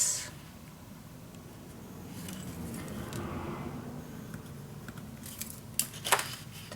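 Scissors cut through Ciao Bella scrapbook paper with soft, steady crisp snipping and rustling, quiet and close, then a few sharper clicks of the blades near the end.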